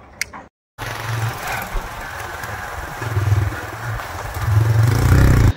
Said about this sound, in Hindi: अपनी राइडर बाइक स्टार्ट